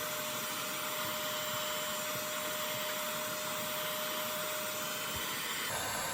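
A heat gun blows hot air steadily and fairly loudly during a car alternator install with a fabricated belt-adjusting bracket, a continuous broadband whoosh with a faint whine that shifts slightly near the end.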